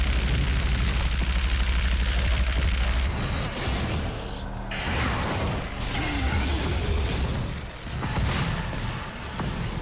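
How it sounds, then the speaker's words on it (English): Loud, close explosions in the Doom shooter game, deep booming blasts and rumbling bursts that overlap in quick succession with brief dips between, mechanical clatter running underneath, no voices. "Big explosions."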